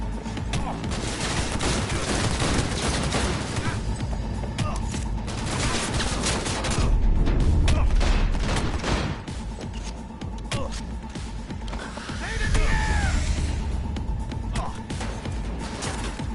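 Gunfire in the game Cyberpunk 2077: dense, continuous bursts of rapid shots and impacts throughout a loud firefight, with shouted voices mixed in.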